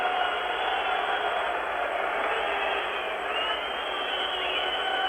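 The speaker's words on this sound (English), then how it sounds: "it's awfully hard to hear it with the crowd noise as well as the whistling" Hockey arena crowd at a Canada versus USSR game, a dense, continuous roar of many voices with sustained whistling riding on top, loud and unbroken.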